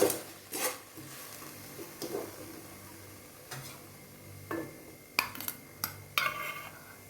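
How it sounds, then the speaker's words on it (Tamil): Cooked spinach poriyal (keerai stir-fry) being moved from the pan into a serving bowl, with scattered light clinks and scrapes of utensils against cookware, several sharper taps near the end, no talking. "இப்போ நம்ம அடுப்பை ஆஃப் பண்ணிவிட்டு இதை ஒரு சர்விங் பவுலுக்கு மாற்றிடலாம்."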